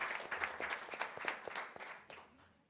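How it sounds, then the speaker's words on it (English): A short burst of applause from a forum audience at a community college ethnic studies event, honoring the organizing committee and panelists; scattered hand claps, fairly faint and thinning out toward the end. "could you please give a round of applause to our organizing committee and our panelists?"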